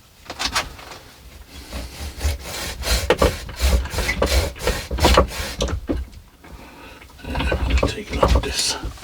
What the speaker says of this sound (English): now I'm going to go in with the saw and hopefully make a nice clean cut straight down there like that